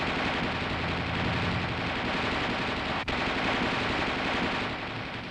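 The coaxial machine gun of an M551 Sheridan armored reconnaissance airborne assault vehicle fires in a 1969 training film: a loud, continuous rattling burst that breaks off for an instant midway, then carries on at full strength.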